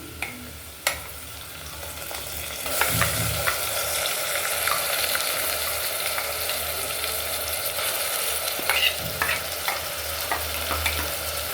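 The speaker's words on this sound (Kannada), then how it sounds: "ಇದು ಹಸಿ ವಾಸನೆ ಹೋಗೋ ಚೆನ್ನಾಗಿ ಹುರಿಬೇಕು ಚೆನ್ನಾಗಿ ಫ್ರೈ ಮಾಡಬೇಕು" A ground paste of mint, coriander leaves, green chilli, ginger and garlic hits hot oil in a cooker pot, a couple of sharp clanks followed by a continuous close sizzle with intermittent stirring scrapes, no speech.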